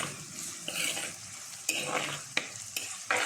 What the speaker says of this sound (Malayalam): അതുവരെ നമുക്കൊന്ന് ഇളക്കി കൊടുക്കാം കേട്ടോ